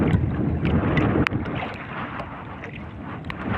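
Steady, broadband wind roar from the strong southwest monsoon (habagat) buffeting the microphone outdoors on open water, loud and continuous with a brief thump partway through.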